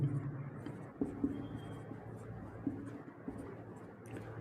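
Chalk or marker writing on a board during a physics lesson, soft scratching strokes with a few light taps, faint and close in a quiet room.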